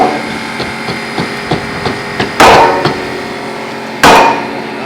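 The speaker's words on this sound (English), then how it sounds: "I think we could probably tap it with a hammer" A hammer taps a wooden beam into place with a run of light, evenly spaced knocks, broken by two much heavier, ringing blows, loud and close.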